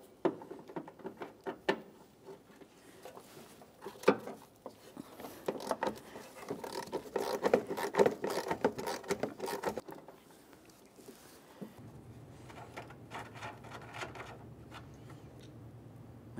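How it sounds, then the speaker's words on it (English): A 13mm wrench works loose the forward bolts of the left upper control arm on a 2002-2009 Chevrolet Trailblazer, giving quiet ratcheting clicks, metallic scrapes and rattles that come in bursts, then a softer steady hum. "Now with those horns out of the way, we can remove our 2 forward bolts."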